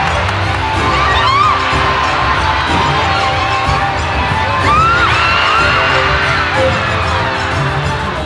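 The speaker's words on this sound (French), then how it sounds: "Le public, il y a plein de fan clubs, ça crie de partout." A packed crowd at a sumo tournament cheers, shouts and whoops in a dense, loud roar, with a few sharp bangs rising above the continuous noise.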